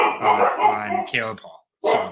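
Dogs barking inside a house, loud yips and barks mixed with someone talking over them.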